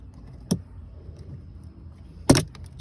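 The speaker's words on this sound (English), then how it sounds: "So I'm gonna cut this into a pretty shape." Toyota plastic trim piece being cut, giving two distinct sharp snips, one short and one louder, close up over quiet background hum with no talking.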